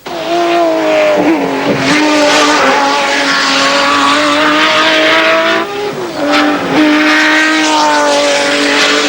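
Tom Walkinshaw's V12 Wang Computer Jaguar race car at Mount Panorama, a loud howling engine climbing in pitch through the gears, dipping at shifts and surging again as it passes close by, with no talk.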